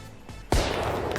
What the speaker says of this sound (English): It is a controllable firework that you let out. You let it out, it flies over here. If it hits something, it'll explode.